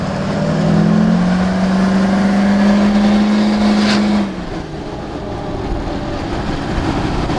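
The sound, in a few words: Duramax-engined Humvee driving off-road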